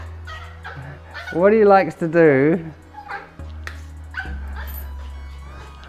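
A dog barks and whimpers at night during an outdoor walk, several excited yips and whines up close, mixed with a voice speaking and a steady low hum underneath.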